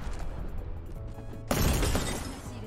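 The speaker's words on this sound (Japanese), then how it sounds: "敵のグレネード" An enemy grenade explodes in the game Apex Legends, a sudden loud crashing burst that lands midway through after a stretch of quieter background game sound, then trails off in a broad rumble.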